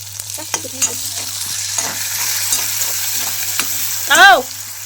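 Chopped onion tossed into a pan on low gas, frying and being stirred: a steady, loud sizzle with scraping stir strokes and a brief metallic clatter near the end.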